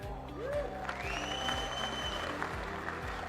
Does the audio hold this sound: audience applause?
yes